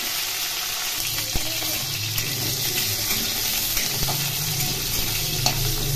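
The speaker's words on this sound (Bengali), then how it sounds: "আলু খুব ভালো করে ভেজে নিতে হবে।" Potatoes fry in oil with a steady, moderate sizzle, broken by occasional soft clicks and scrapes of stirring.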